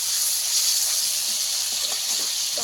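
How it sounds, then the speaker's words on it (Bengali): Chopped tomatoes frying in a pan for a Bengali potol posto, a steady bright hiss of sizzling that holds at an even level from start to finish. "টমেটোটাকে ভালো করে ভেজে নেব।"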